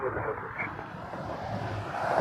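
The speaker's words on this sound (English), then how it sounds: "737 MAX 8" A Boeing 737 MAX 8 airliner at Toronto Pearson airport gives a faint, distant, steady jet rumble that swells slightly toward the end, with a hint of voice in the background.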